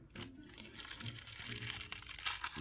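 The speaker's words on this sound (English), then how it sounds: "It was wrapped up in this plastic bag." A plastic bag wrapping a Lifidea Infinity Cube with set screw assembly crinkles and rustles as it is handled and opened, a steady close crackling texture with a few sharper crunches and no talk.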